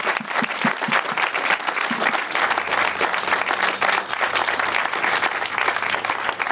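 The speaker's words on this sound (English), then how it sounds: "maybe you could have another round of applause for the men and women of the Needham Fire Department." Crowd at a fire station dedication applauds the local fire department, starting with a few distinct claps that quickly grow into sustained, lively clapping with faint murmuring underneath.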